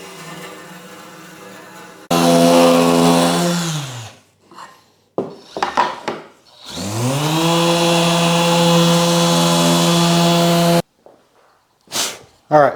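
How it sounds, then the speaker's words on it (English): Power sander working a wooden miter joint with spline inlays, two long loud whirring bursts that spin up and wind down, separated by short pauses with brief handling knocks, close by and without talk. "let's sand this down."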